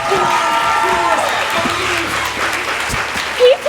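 Sustained audience applause and clapping fills a high school stage production of Peter Pan and Wendy, dense and steady throughout, with a brief voice rising near the end.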